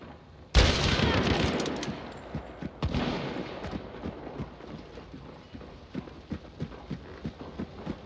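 Gunfire in the video game Hunt: Showdown on the Lawson Station map: a loud, sudden blast opens, followed by a rumbling tail and a string of sharp, evenly spaced thuds and clacks close by. No voices.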